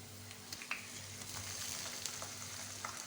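Beef pieces added to a pan of golden fried onions while cooking nihari, giving a steady close sizzle and frying crackle with small pops throughout, no voices.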